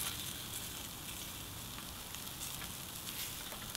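Sweet potatoes sizzle steadily on a hot plancha griddle, a constant close hiss and crackle with no pauses and no voices.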